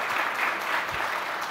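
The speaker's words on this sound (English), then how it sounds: "That applause you hear is Indians counting the medals already in 2028" A forum audience applauds in a hall, a dense, continuous roar of clapping held at an even level from start to end, with no speech over it.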